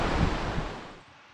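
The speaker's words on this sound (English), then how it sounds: "we're right along the creek, and we're ready to get started" Frying Pan Creek rushes beside a hiking trail toward Summerland in Mount Rainier National Park in July, a steady broadband roar of flowing water that is loud at first and then drops noticeably quieter near the end.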